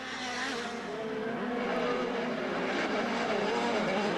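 Pro Light off-road racing truck engines roar continuously in Las Vegas, a loud sustained mechanical drone with shifting pitch as the vehicles push hard around the course; one truck trails a little smoke.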